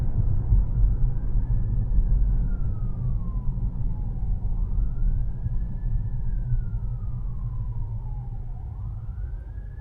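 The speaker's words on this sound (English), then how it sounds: "Another siren." A wailing siren rises and falls in long sweeps over a steady low engine rumble, with no talking.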